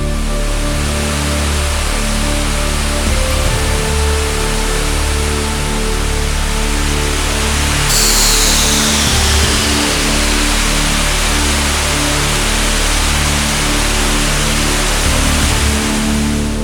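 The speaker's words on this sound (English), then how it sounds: "They are lashed with spray from the waterfall as it cascades over 200 feet down from the surface." Waterfall spray cascading more than 200 feet down a cave shaft, a loud, unbroken roar of rushing water filling the space with no voices.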